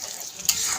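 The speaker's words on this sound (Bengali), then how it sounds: "এই যে পেঁয়াজটা ভাজা হচ্ছে" Sliced onions with black cumin (kalonji) sizzling in hot oil in a pan, a steady close frying hiss with a brief louder burst of spatter midway.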